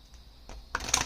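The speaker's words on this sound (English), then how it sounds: "I'm going to shuffle a little slow because these are huge." Large oracle cards are shuffled slowly by hand, with a soft papery rustle building into a brief, louder flurry of card slides near the end, close and alone.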